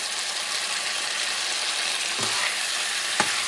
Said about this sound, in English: Let's go medium high heat. Add some chopped green onions.